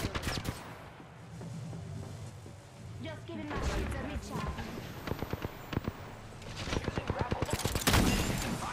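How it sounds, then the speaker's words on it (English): Gunfire in the video game Apex Legends, with bursts of rapid shots and single cracks scattered throughout, growing denser and louder toward the end, mixed with other game sounds. "They're shooting us from somewhere."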